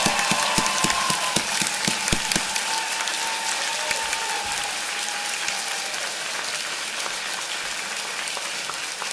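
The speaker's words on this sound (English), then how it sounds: "Please give them and all of you who have supported them and helped them get to this moment a big round of applause." Audience at a 2024 commencement ceremony applauding graduates: broad crowd clapping that starts with sharp, louder claps and then settles into a softer, even patter that fades slightly toward the end.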